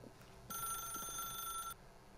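Telephone ringing in The Stanley Parable, one steady electronic ring of about a second and a quarter, moderately loud against a faint quiet background.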